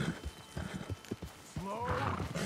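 A horse ridden in Red Dead Redemption 2, with close clip-clopping hooves and a rising whinny near the end, while a voice speaks over the riding.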